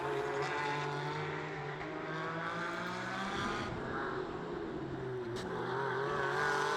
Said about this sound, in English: this is the first of the GTB cars, the tip-top Porsche of Arthur Peters and Kenny Heremans.